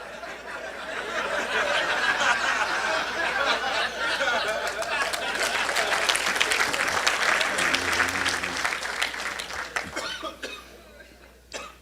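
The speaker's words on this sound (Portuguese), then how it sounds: "Eu sei porque você aplaudiu." An audience at a philosophy and ethics lecture in a seminar hall breaks into steady, dense applause that swells and then thins out near the end, with scattered coughs and murmurs mixed in.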